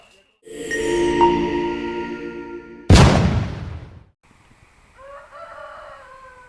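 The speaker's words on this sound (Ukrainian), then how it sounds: "Якийсь неправильний півень. На вулиці ще темно, він вже кукарікає." A rooster crows loudly nearby before dawn in one long, strained call, followed by a burst of noise, then softer clucking chicken sounds.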